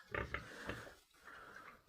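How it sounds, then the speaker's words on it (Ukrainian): Soft, low pig grunts come in a few short bursts, then a quieter snuffling stretch, faint and close by. "Ось покажу вам наші свинки."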